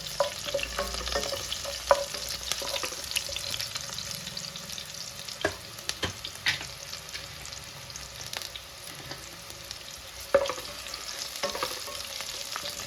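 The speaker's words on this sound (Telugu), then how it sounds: "ఉల్లిగడ్డ ఎర్రగా అయిపోయినాక కొంచెం దూరగా వేయించుకోవాలి" Steady sizzling of onions frying in a pan, with occasional scraping stirs and clinks of a spoon, continuous throughout and fairly close.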